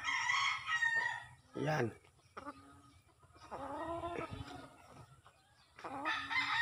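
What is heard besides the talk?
Sweater gamefowl rooster crowing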